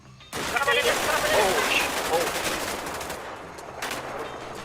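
Gunfire in the GTA V roleplay game, a sudden dense burst of rapid shots that keeps rattling on, then thins into scattered loud reports, with a voice speaking underneath.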